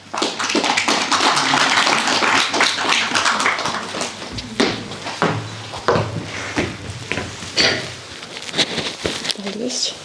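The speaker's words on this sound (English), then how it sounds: "Please give a huge round of applause for her." Dense, sustained applause with some cheering from a public speaking championship audience in Shimla, fading to scattered claps and bits of voices after about four seconds.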